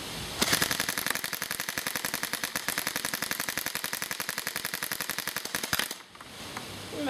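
Airsoft CQB gun firing on full auto, a single sustained burst of rapid, evenly spaced shots lasting about five seconds before it stops abruptly, loud and close.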